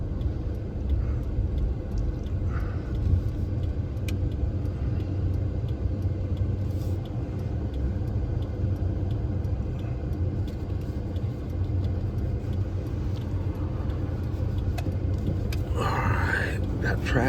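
Low, steady road rumble and engine drone of a Ford F-150 pickup truck cruising along, with faint intermittent sounds and brief voice-like bits near the end.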